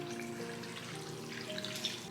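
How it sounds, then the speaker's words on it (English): Filtered water from a large jug pours into a crock pot for chicken bone broth, a steady gushing splash held for a couple of seconds over a faint background hum, with a small brighter splash near the end. "I have a large jug of filtered water here, and then I'm gonna just simply add that all in to the crock pot"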